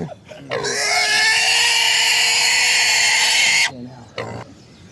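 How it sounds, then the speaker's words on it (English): Pigs being handled let out a loud, sustained, piercing scream lasting several seconds, followed by a shorter squeal and some quieter background noise. "Pigs always scream a lot when you handle them."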